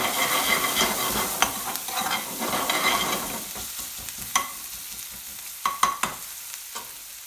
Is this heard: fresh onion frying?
yes